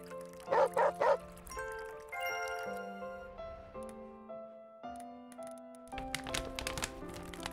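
A dog barks in the Animal Shelter video game: three quick loud barks near the start, followed by melodic game music tones with later faint yips.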